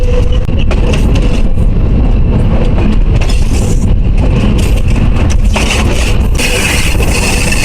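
Albanian passenger train heard from the front cab in the countryside, a loud steady broadband rumble of wheels and motor running throughout, with brief clattering rises toward the end.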